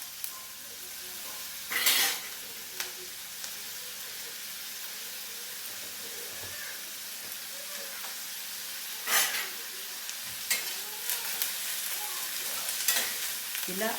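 Onions and curry leaves frying in a pan, a steady sizzle broken by a few louder scraping stirs of the spoon, close up with no talk.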